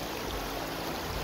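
A small backcountry creek flows steadily in a short burst of even, rushing water noise with no other sounds.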